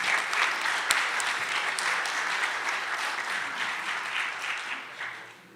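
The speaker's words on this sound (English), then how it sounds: "everybody give yourselves a round of applause" Conference audience at a psychedelic society symposium applauding together, a dense, steady wash of many hands clapping that holds at full strength for several seconds before tapering off at the end.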